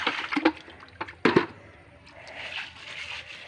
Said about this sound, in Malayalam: വെള്ളം കുറച്ച് തളിക്കുക